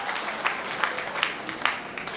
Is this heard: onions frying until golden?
no